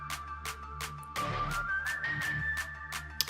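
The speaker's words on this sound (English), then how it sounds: "Whistling." A clear whistled melody glides over a rhythmic K-pop track with steady beats.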